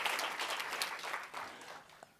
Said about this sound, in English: Yes, please applaud.